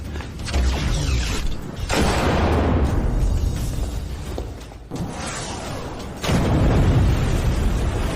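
Animated bazooka shots and explosions: heavy booming blasts with rumbling low-end decay, one surge near the start, another midway and a loud burst toward the end, with no talk over them.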